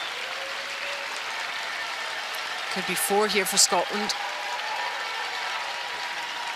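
Crowd applause rolls steadily through an arena at the Men's World Curling Championship as the Canadian team leaves the ice, sustained and fairly distant under a commentator talking throughout.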